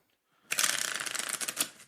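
Playing cards riffle-shuffled up close, a crisp burst of rapid fluttering clicks lasting over a second after a brief quiet moment.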